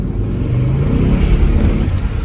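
A BMW Z8 car driving, a loud close low engine rumble with steady road noise and slight throttle variation, continuous over a couple of seconds.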